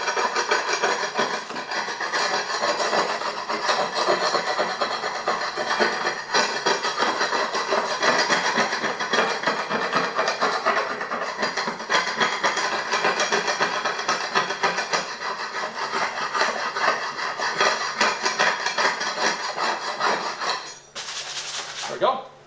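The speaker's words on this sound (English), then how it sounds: "all I do is I just take my chip and hammer here and just go like that across it" Steel chipping hammer dragged and tapped across a welded steel plate for a Massey Ferguson three-point hitch part, knocking off weld spatter in a dense, continuous rasping clatter that runs steadily and close for about twenty seconds before stopping.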